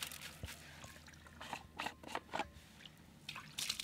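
Rinse water dumped out of an 8-liter sample bottle during field sampling at Wolverine Lake, heard as a few faint, irregular splashing and dribbling bursts against a quiet outdoor background.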